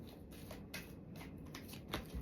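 Oracle cards being shuffled for a one-card reading, a close, quiet run of papery riffling and flicking with soft slaps, continuous and alone.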